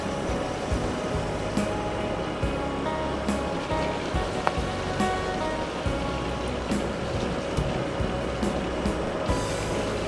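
Rain falls steadily on surfaces in a continuous rushing patter, with scattered louder drips and taps throughout and a low rumble underneath, moderately loud and unbroken.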